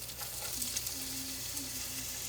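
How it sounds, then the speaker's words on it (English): Onions sautéing in a very hot pan give off a steady, close, dense sizzle that runs unbroken throughout, with no voices. "You can hear the sizzle because that was a very hot pan to start with"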